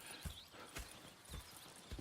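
Horse hooves clip-clop on the ground in a video game, four faint, evenly spaced hoofbeats at a walking pace, with no talk over them.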